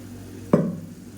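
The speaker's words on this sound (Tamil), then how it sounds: "இப்போ மிக்சியை அலசிட்டு அந்த தண்ணியை சேர்த்துக்கிறேன்" Water from a rinsed mixer jar is poured into a pan of tomato chutney on the stove, a single brief splash and sizzle that swells abruptly and then fades.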